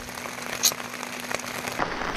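Rain falls steadily outside in a remote rural spot in Yunnan, a soft continuous patter with a few sharper drips.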